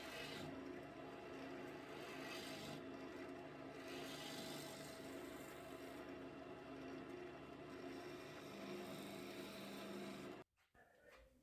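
A gouge makes a push cut on a maple bowl spinning on a lathe, giving a steady, continuous rasping hiss that runs for about ten seconds before stopping abruptly.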